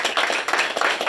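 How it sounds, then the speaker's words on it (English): A round of applause from the audience at a senior center meeting, steady dense clapping filling the whole moment, fairly close and loud, with no voices over it. "how about a round of applause first?"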